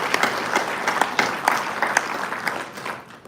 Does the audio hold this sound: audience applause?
yes